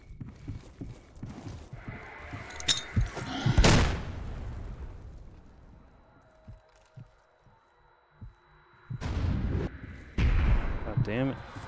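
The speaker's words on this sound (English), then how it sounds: "let's hit him with a grenade first" A grenade going off in the video game Stalker, one sharp loud blast with a short tail, set among other shots and impacts while someone talks excitedly before and after.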